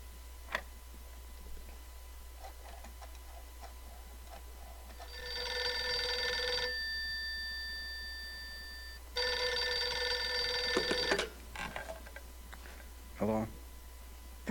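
A telephone rings in the adventure game Gabriel Knight 2: The Beast Within, with two separate bursts of bright electronic ringing against a low, steady game background and a few faint clicks.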